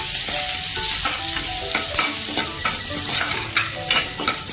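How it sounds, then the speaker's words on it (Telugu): Green chilies, grated ginger and curry leaves frying in oil in a pan, with a steady loud sizzle and repeated stirring scrapes throughout, no voices. "మనం ఇలా రోస్ట్ చేసుకోవాలి ఈ విధంగా."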